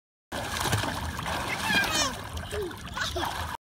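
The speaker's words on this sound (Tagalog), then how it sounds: "Kaya ito na, nag-swimming na kami." A child swimming in water, with continuous close splashing and sloshing while children's voices chatter and call over it.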